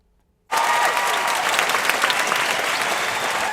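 A sold-out crowd of 2,500 gives Gloria Steinem a standing ovation in Stambaugh Auditorium, Youngstown: after a brief silence, dense loud applause bursts in and holds steady.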